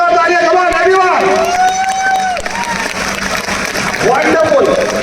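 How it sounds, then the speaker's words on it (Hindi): A hall audience bursts into loud clapping and cheering, a dense continuous roar of applause with voices and a loudspeaker talking over it throughout. "मैं चाहूंगा इनके लिए एक बार जोरदार तालियां"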